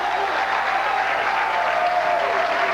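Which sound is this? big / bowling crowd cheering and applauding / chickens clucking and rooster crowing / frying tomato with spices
bowling crowd cheering and applauding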